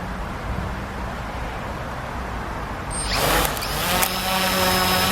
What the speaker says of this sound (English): It's the motors making that noise.